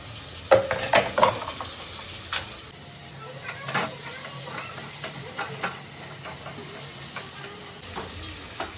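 Tomatoes drop into hot oil already browned with ginger and garlic for a home chicken biryani, and a steady close sizzle follows with sharp clatters of stirring near the start and scattered pops and scrapes after.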